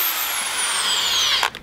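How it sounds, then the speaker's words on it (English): A power drill spins up with a steady high whine as it bores a hole into a plastic bucket, then stops abruptly after a second and a half, close and loud. "let's drill our first hole"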